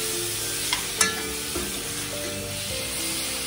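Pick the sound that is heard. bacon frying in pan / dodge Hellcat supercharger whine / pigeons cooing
bacon frying in pan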